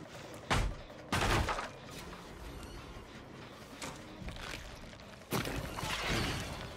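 Gunshots in the Dead by Daylight video game: a few loud bursty cracks early and another near the end over a busy, moderate game background.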